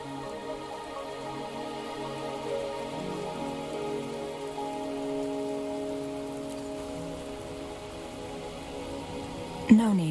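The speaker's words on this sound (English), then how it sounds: "Are you trapped here by the rain?" Steady rain patters and drips on surfaces in the video game Wuthering Waves, a continuous moderate wash under sustained musical tones, with a sharp accent near the end.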